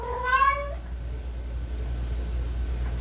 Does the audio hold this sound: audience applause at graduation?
no